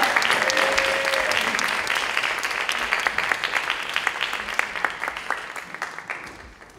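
An audience at a Baptist pastors' spirituality seminar gives a pastor a warm round of applause, a dense wash of clapping that stays strong and then gradually tapers off.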